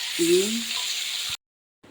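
Garlic and grated coconut frying in a pressure-cooker pan while being stirred, giving a steady close sizzle that cuts off abruptly partway through, with a brief low voice tone near the start.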